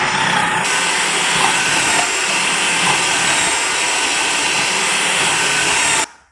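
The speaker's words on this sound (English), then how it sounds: "All my onions are sliced up in the food processor." A food processor fitted with a slicer disc cuts onions for bhajees, a loud, steady motor whir with a grinding hiss held for about six seconds before it abruptly stops.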